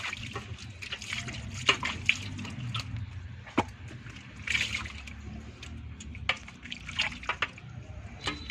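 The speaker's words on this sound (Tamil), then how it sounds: "மஞ்சள் தேய்ச்சிட்டு இப்போ தண்ணி ஊற்றி நல்லா கழுவி எடுத்துக்கணும்." Water is poured over turmeric-rubbed country chicken to wash it, with splashes, drips and trickling mixed with soft handling clatter, close and fairly quiet.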